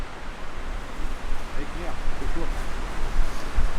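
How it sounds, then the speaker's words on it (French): Strong wind roars and buffets the microphone in a dense, gusting rush that continues without pause. "Le vent il est terrible"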